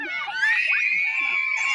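Kids screaming in elation as a weather balloon carrying a GoPro is released, a sustained, shrill chorus of high-pitched shrieks and yells lasting nearly two seconds, loud and close.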